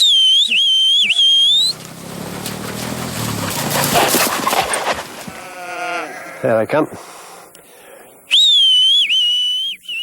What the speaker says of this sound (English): With a sharp whistle only they can understand, both dogs come bounding down the hill.